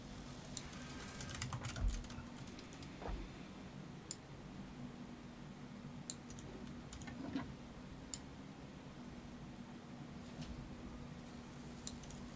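Quiet, close typing on a computer keyboard during a Satisfactory game session: scattered, irregular light clicks and taps over a faint steady hum, with a few louder key strikes.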